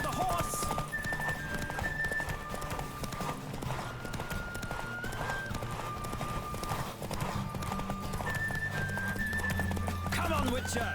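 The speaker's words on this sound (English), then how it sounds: "Don't spare the horse." A horse gallops through The Witcher 3, its hooves beating a rapid, even rhythm in the foreground under a sustained musical score, with a brief whinny-like sound near the end.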